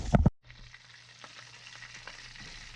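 A brief clatter, then a steady soft sizzle of bluegill fillets frying in a pan, with faint crackles and no talking.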